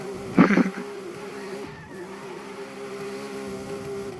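A car drifts in the racing game Forza Horizon 5, with a steady engine drone carrying on after a short, louder burst near the start.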